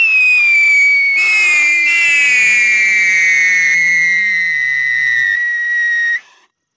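A Diwali siren torch firework goes off with a loud, sustained shrill whistle that glides slowly downward in pitch over hiss and crackle for about six seconds, then cuts off abruptly.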